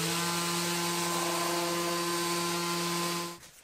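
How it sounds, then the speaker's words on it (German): A plastic adapter is sanded with 80-grit sandpaper under a steady, whirring motor drone that runs loud and close, then cuts off abruptly just before the end. "Den schleifen wir jetzt mit 80er Schleifpapier hier ein bisschen an, damit der schmaler wird und da reinpasst"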